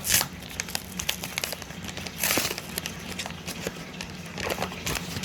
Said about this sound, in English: all-purpose flour in a bag. I got 2 bags here. Open it up.